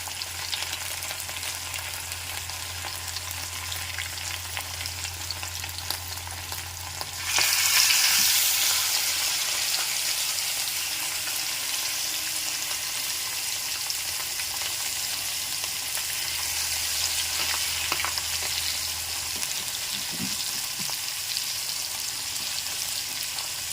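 Fish pieces rubbed with salt and chilli frying in a pan, a steady close sizzle that surges briefly louder partway through, then settles into continuous crackling, with no talking.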